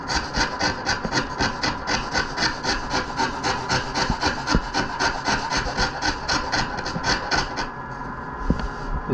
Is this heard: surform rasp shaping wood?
yes